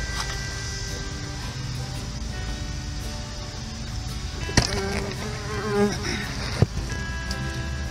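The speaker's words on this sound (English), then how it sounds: "Look at the bees." Bees buzzing around squash blooms in a backyard vegetable garden make a steady, faint hum over light outdoor background noise, with a couple of brief nearby bumps.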